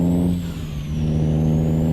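A truck engine in American Truck Simulator drones steadily at a low, even pitch for about two seconds, close and loud, with no other sounds over it.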